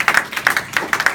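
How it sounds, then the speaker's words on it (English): Rhythmic clapping from a church congregation during a Sunday service, quick regular claps in a steady beat, close and fairly loud. "Let's give God a big clap offering for that"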